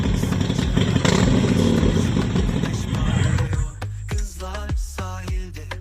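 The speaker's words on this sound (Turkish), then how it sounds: "Hazreyle bir egzoz sesi ver bakalım" A loud Iveco M23 bus engine roars steadily, then the exhaust revs in a series of short, sharp blips as it settles toward idle, close by.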